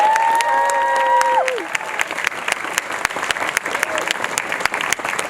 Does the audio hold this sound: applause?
yes